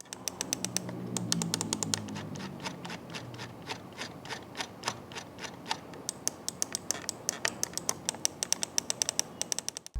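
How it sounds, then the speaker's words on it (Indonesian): Rapid, crisp clicking from the switches of a DA DOC002 mouse, sharp ticks in quick irregular bursts, close up and alone over faint background hiss. "contoh suara feedback dari mouse DA Davis DOC002"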